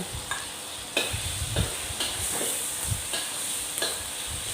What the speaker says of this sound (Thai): ผัดกระเทียมกับพริกสับกับ พริกเผาให้หอมและให้เข้ากันค่ะ